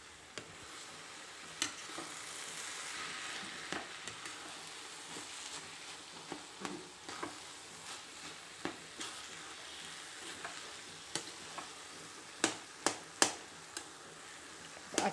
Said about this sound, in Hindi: अब इसे अच्छे से मिक्स करेंगे चलाते हुए